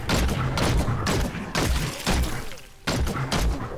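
Bombs going off in the Diablo 3 game, a rapid run of loud, dense bursts and thuds packed closely together with brief gaps, like a fusillade of explosions mixed with shattering clatter, close and forceful throughout.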